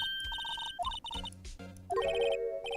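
A Phoenix Wright video-game phone rings as a bright electronic ringtone in short repeated melodic bursts, fairly clear against game music and effects.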